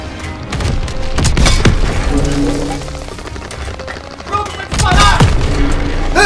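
A German Panzer tank is destroyed in Call of Duty WWII: repeated heavy booms and crackling blasts with debris and gunfire, loud and close, sharp bursts at the start and again near the end.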